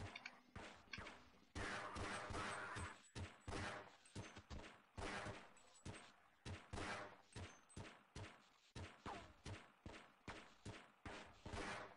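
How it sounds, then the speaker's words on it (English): Rapid, loud volleys of gunfire from the Half-Life video game, sharp repeated bursts firing in uneven clusters with brief gaps, close and dominant throughout with no talking. "He's just shooting that guy's leg."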